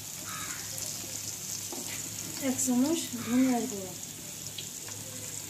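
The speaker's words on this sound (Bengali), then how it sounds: "নেড়ে চেড়ে মশলাটা কষিয়ে নিতে হবে।" Ground spices, including coriander powder, are stirred and fried in a pan for a Bengali chicken and potato curry, giving a soft, continuous sizzle beneath a person talking.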